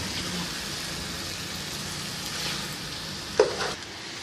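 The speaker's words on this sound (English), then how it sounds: "Okay, now I'm going to mix this well." Chicken kabsa with garam masala being stirred in a pot, a steady sizzling wash with faint scraping throughout and a brief louder clink of the spoon near the end.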